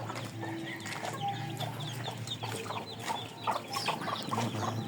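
Chickens clucking in a coop, several birds giving short irregular clucks and calls over a steady low background hum, moderately close with no talk.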